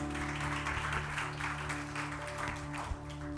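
A congregation at a Telugu church service claps together in a sustained round of applause, steady and moderately close, over a low, continuous hum.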